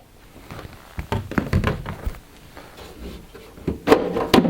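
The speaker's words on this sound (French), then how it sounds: "L'autre porte se retire tout aussi facilement." Side door of an Anidées AI-4B Micro ATX PC case, lined with foam insulation, being pulled off the chassis. Several hollow clunks, taps and thuds come close up, irregularly spaced, with no talk.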